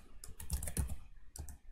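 Computer keyboard typed on while writing C# code, a quick irregular series of close key clicks and taps with a brief pause before a final short burst.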